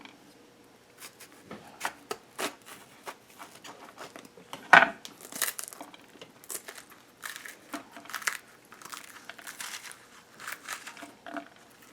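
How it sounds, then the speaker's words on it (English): Bitter melon (karela) being prepared, ends cut off and insides scooped out: close, soft crinkling, scraping and knife taps in irregular bursts, with one sharper knock partway through and no talking. "after cutting the ends and taking out the insides"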